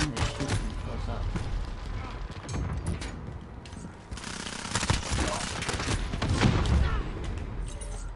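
Close-range gunfire in Call of Duty, irregular bursts and shots popping through a busy, dense game mix, with someone talking over much of it.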